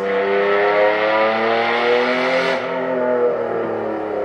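A car engine, likely a V6 or inline six, holds a loud, steady, harmonic drone that dips slightly as the car moves past, close and continuous with no talking over it.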